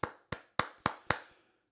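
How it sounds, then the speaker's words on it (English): Five separate hand claps in a short, slightly uneven rhythm from one person, each a sharp close snap with a quick decay, after which the sound stops. "Let's give him a round of applause."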